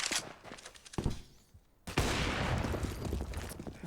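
Pistol gunfire from USP handguns during a professional CS:GO match, with a burst of loud, sharp shots at the start, a short lull, then dense continuous firing and game noise to the end.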